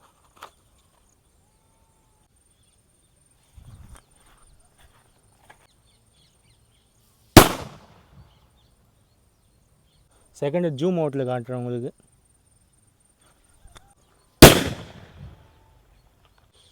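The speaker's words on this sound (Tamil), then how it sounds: "ஃபஸ்ட்டு வந்து புல்லட் பாம்லேருந்து ஆரம்பிச்சிருவோம்." Bullet bomb firecrackers for Diwali explode in two sharp, loud, separate bangs with decaying tails, plus a brief buzzing burst between them; someone speaks briefly and the rest is near-silent.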